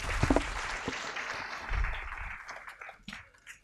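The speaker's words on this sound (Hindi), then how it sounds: "मैं चाहूँगी आप ज़ोरदार तालियां बजाएं" An audience at a Hindi campus poetry event applauds a poet, a dense burst of clapping that swells and then thins out over a few seconds.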